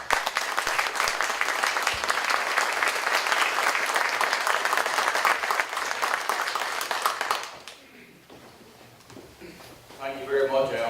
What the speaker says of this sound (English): Won't you all join me this morning in giving a great round of applause to our Senator